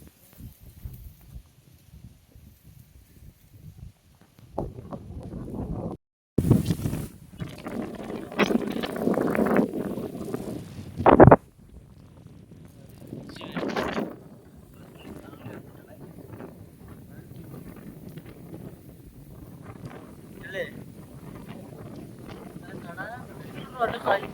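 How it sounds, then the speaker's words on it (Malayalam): Strong wind buffets and roars across the microphone in uneven gusts at Ilaveezhapoonchira hilltop, with rattling handling noise and occasional voices underneath. "കാറ്റടിച്ചിട്ട് കൈയൊക്കെ നിൽക്കുന്നില്ല"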